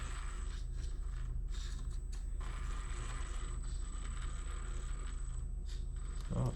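An Axial Gilamon RC crawler truck with a brushed motor creeps along on light throttle, a steady close whine of motor and gears with ratcheting mechanical clicks and no talking.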